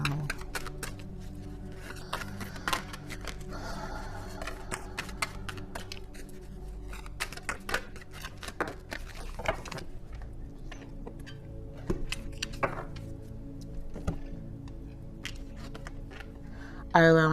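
Tarot cards being shuffled by hand, a rapid run of crisp riffling and tapping clicks that continues steadily throughout, close and fairly quiet, with faint talk mixed in.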